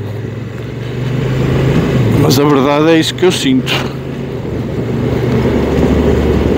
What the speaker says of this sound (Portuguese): a sonoridade do motor eu já conheço da África Twin